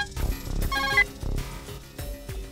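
A telephone rings with bursts of bright, repeating tones over a loud, busy music bed in a Hindi film scene. Several ring pulses come close together across a couple of seconds.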